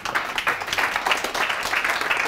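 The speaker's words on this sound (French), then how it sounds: "on peut l'applaudir bien fort" Audience applause at a conference, dense continuous clapping from many hands, fairly close and even in loudness from start to finish, with no voices over it.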